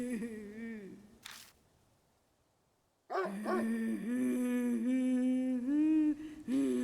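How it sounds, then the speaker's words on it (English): A dog in a video game, with a low growl early, then a pause, then a louder run of whining, yipping vocal sounds that continue to the end. "The dog's growling again."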